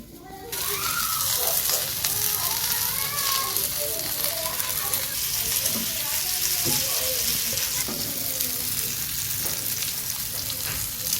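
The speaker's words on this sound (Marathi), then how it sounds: "आता मस्त फ्राय करायला टाकूया त्यांना" Loud, continuous sizzling of semolina-coated fish frying in a little hot oil on a griddle pan, crackling steadily throughout, with children's voices chattering faintly in the background.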